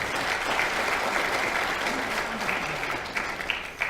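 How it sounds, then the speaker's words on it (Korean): Steady applause from a crowd at a Liberty Korea Party national committee meeting, dense clapping that holds evenly for several seconds with a few sharper claps near the end. "여러분 박수 한번 좀 보내주시기 바랍니다"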